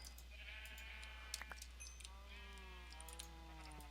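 Sheep in the video game Minecraft bleat several times in quick succession, quiet and wavering, with a low steady hum underneath and no talking.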